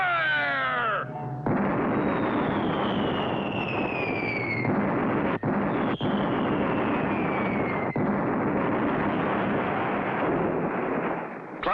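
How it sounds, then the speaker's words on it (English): Cannon fire booms out in a 1960 vintage color cartoon set on a pirate island, a sustained roaring barrage with several sharp cracks under dramatic music, opening with a brief whistling descent. "Clutch and Company hit with cannon fire."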